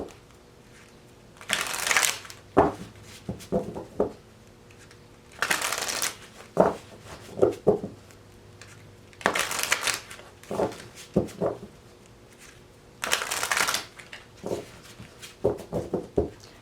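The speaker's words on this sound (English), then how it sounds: "Couple more shuffles for Aries." Cards being shuffled in repeated riffle bursts, four main rounds with softer taps and bridging clatter between them, close and clear with no talking.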